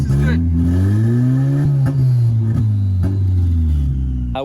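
The engine of an R32 Skyline revs close and loud, its pitch rising and settling in a few smooth swells with brief clicks between them.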